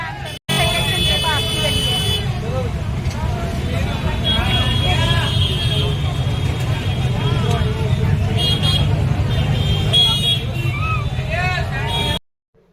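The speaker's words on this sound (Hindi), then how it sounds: "ओ भाई क्या गजब का ट्रैफिक हो रहा है।" Busy market street during the Dhanteras festival, with dense, steady traffic rumble and car horns tooting again and again through a crowd's hubbub and nearby voices for about twelve seconds.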